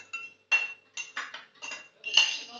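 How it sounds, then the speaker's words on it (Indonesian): A metal spoon stirs food colouring in a glass, with a series of bright clinks and scrapes at an uneven rhythm, close and clear with no talk. "Setelah itu diaduk dengan sendok."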